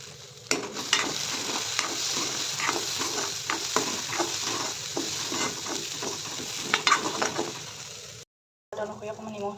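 Lentils fry in a pan after onions, a constant sizzle with rhythmic scraping strokes of a spoon stirring them, the sound cutting off briefly near the end.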